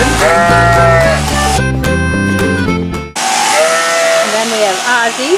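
Sheep bleat loudly and repeatedly at close range while being sheared in Ohio, drawn-out wavering cries overlapping one another with a brief pause in the middle.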